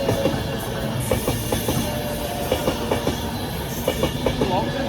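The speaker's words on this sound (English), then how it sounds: "Hey, there's another train there." A train passing on the railway in the Lake District, a rhythmic clickety-clack of wheels over rail joints with a steady rumble, heard fairly close from a car.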